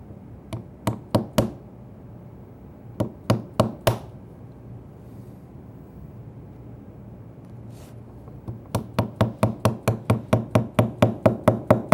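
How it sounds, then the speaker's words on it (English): A narrow chisel cuts out a wooden dado groove with sharp, crisp taps, probably struck by a mallet. They come in short bursts of three or four, then a long steady run of evenly spaced blows that grows louder toward the end, close by and with no talk. "just connect the dots with a narrow chisel that'll fit in the dado"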